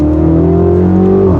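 A Mini car engine on stock exhaust revs close by, with a steady, loud, throaty drone held for about a second before it drops off.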